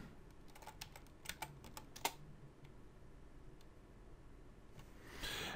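Quick bursts of typing on a computer keyboard while entering a build command for a Raspberry Pi, a cluster of sharp close key clicks and then a heavier final keystroke, fairly quiet in a still room.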